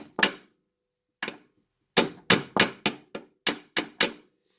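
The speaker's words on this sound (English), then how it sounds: "So I got myself a little baby pin hammer." A small pin hammer taps a brake part into place on a Nissan 300ZX Z32 Akebono big brake upgrade. There are sharp metallic knocks, first single and spaced, then a quick run of seven closely spaced taps, with silence in between.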